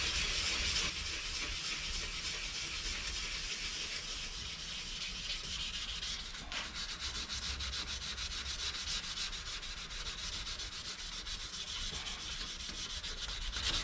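Steady abrasive sanding of a car headlight, a continuous gritty rubbing with a brief pause midway, close up and without any voices.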